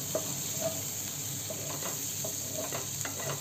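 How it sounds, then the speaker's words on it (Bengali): Garlic frying in a pan while being stirred, a soft steady sizzle with faint scraping strokes of the spoon, continuous and fairly quiet. "রসুনটা দিয়ে বেশ কিছুক্ষণ নাড়িয়ে চাড়িয়ে রসুনটাকে একটু গোল্ডেন কালারের করে একটু ভেজে বা সপে করে নিতে হবে।"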